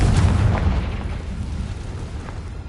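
A Confringo spell explosion in Hogwarts Legacy lands as a deep, booming blast that rumbles loudly at the start, then slowly tails off into a low, fading roar.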